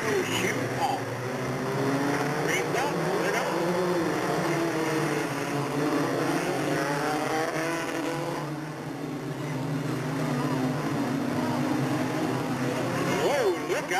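Mini stock race cars roar together at the start of a 20-lap main event at a speedway, a dense, sustained engine drone with rising and falling revs, a public-address voice heard over it.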